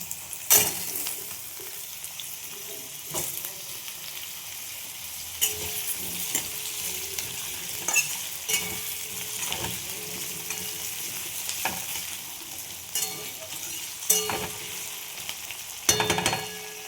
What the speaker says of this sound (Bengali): পেঁয়াজগুলো সফট হয়ে গেছে, এবার আমি আলুগুলো একসাথেই ভেজে দেব।